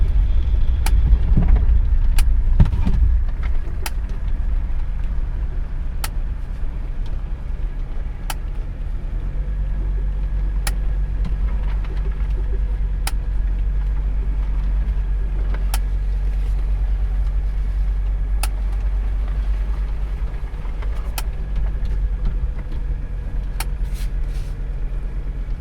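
A Mercedes 300CD car drives along with a steady low engine drone close by for the whole stretch, broken by scattered faint clicks and knocks.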